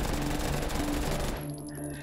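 Rapid pistol fire from akimbo pistols in the VR shooter Hot Dogs, Horseshoes & Hand Grenades, a dense unbroken burst of close, loud shots that stops abruptly.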